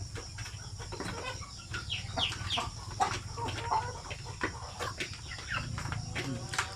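Native Basilan chickens cluck and chatter continuously nearby, with scattered short calls over a low steady background hum.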